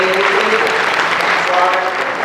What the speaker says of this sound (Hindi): आइए हम स्वागत स्वरूप हम एक दूसरे के लिए जोरदार ताली बजाएं